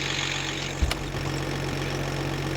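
A vehicle engine idling steadily with a low rumbling hum, plus a brief thump near the start, with no one speaking.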